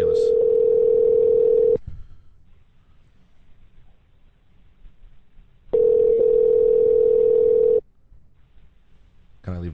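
Steady telephone dial tone sounds loudly for nearly two seconds, breaks into a long quiet gap of faint line hiss, then returns for another two seconds before cutting off, with a brief onset at the very end.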